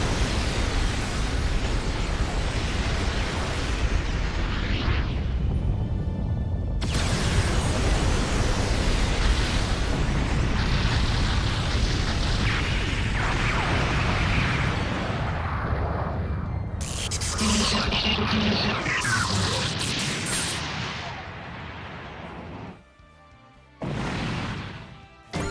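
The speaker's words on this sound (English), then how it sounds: "Galaxy Cannon, fire!" The Galaxy Cannon fires in a mecha strategy game, a long roaring blast of dense rumbling noise with crashing explosions that surge and break into separate bursts before cutting off.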